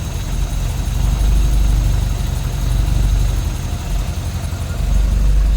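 A 1963 Triumph TR4 roadster's 2,138 cc inline four-cylinder engine idling smoothly with the choke off, a loud, close, even low rumble that swells slightly and settles, no voices.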